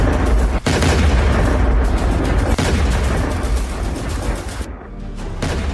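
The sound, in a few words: explosions from US-Israeli strikes on Iranian military base in Bushehr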